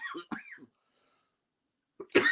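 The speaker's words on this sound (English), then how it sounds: "I'm just getting over pneumonia, so that's why you hear me coughing so much" A person recovering from pneumonia coughs in a few harsh, raspy bursts, with a short quiet gap before a final loud cough.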